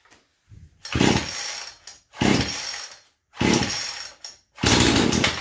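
A Poulan Pro PP4218 chainsaw that has been sitting unused is pull-started with the choke out, giving four loud, close recoil-pull rasps in a steady rhythm with short silent gaps and no catch.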